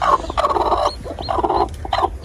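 A hen clucks and squawks close by in several quick, agitated bursts, with low rumbling noise in the background.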